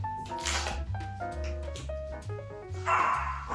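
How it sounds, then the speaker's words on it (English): Dogs bark repeatedly nearby in quick, uneven bursts, fairly faint in the background. "sorry about the dogs"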